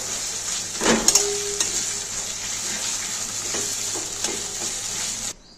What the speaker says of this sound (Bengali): পেঁয়াজটাকে বেরেস্তা করে নেব।